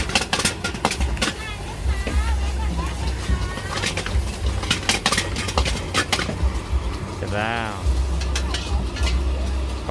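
Steady oil-free stir-frying of chicken with holy basil in a wok, with repeated metallic scrapes and clinks of stirring, while someone talks over it, at a market stall.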